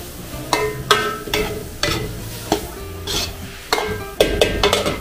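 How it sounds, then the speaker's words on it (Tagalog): A utensil scrapes and clatters in a pan while pork intestine bopis sizzles, the stirring strokes coming in irregular repeated scrapes over a steady frying hiss. "Haluin lang po natin maigi."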